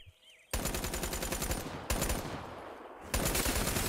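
Rapid shotgun and gunfire blasts from the video game Black Ops 3 crackle loud and dense in three sustained volleys, with a brief dip between bursts and no talk.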